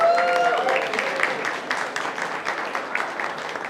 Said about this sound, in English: Let's give a round of applause for Carmen in the back there.